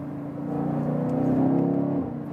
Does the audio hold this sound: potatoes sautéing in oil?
no